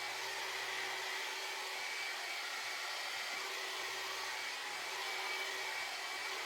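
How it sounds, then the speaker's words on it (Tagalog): A hair dryer blows steadily on wet braids, a constant broadband whoosh that stays loud and unchanging throughout with no talking. "Kailangan i-blower ang braids."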